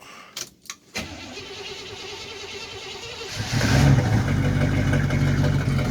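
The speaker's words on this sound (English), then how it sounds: "Oh, let's see if it'll start. Do a nice little cold start on it." A Chevrolet Blazer's engine cold-starts after a few clicks and a short crank, settling into a steady idle that swells louder and rougher near the end, heard close with no talking.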